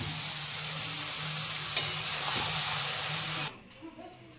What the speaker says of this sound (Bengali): সবজিপাতি ভাজাভুজি হচ্ছে।